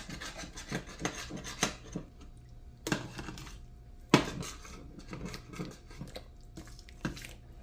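A spoon scrapes and rasps across the bottom of a stainless steel pot while beef stew is cooked, in a run of uneven metallic strokes and clinks, close and moderately loud with no talking.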